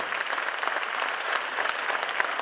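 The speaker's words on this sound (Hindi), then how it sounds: "जोरदार तालियां हो जाए।" Steady, enthusiastic applause from a seated audience after a stage performance at a UDAAN show, many hands clapping continuously at moderate distance with no talk.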